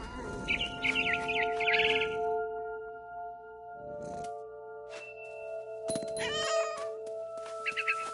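A cat meows and yowls several times in the video game What Remains of Edith Finch, interspersed with high bird chirps over a steady electronic tonal backdrop.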